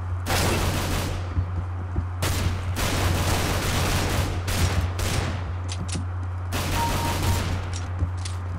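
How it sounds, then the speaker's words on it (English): Gunfire in Counter-Strike: Global Offensive, several loud bursts of rapid automatic shots separated by short pauses, with a steady low hum running underneath. "Where's this guy shooting at me from?"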